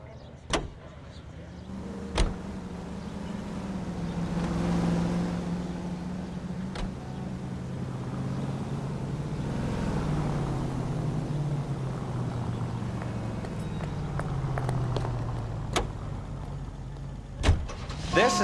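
A car driving in the video game L.A. Noire: a steady low engine drone runs throughout, with a few sharp clicks and knocks over it and no talking.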